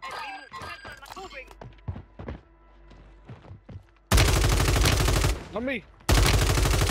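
Loud, close RAM-7 rifle fire in Warzone comes in two dense sustained bursts, after a stretch of quiet talking and faint in-game clicks, with a voice speaking briefly between the volleys.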